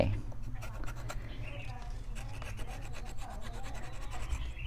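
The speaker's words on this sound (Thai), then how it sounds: "ต้องขูดด้วยนะครับ ขูดชืดขูดเพื่อไม่ให้มันส่งอาหารขึ้นไป" Scraping bark off an Indian rubber tree branch for air layering, a series of rough rasping strokes in uneven rhythm, close and moderately faint over a low background hum.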